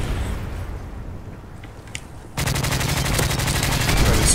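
Sustained automatic gunfire sprays through a wall in a first-person shooter game, a loud, rapid, even stream of shots starting abruptly after quieter background noise and a single faint shot.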